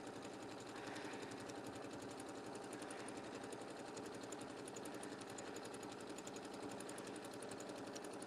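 A sewing machine backstitches fabric on a table topper with a fast, even mechanical chatter that runs steadily throughout, close and alone.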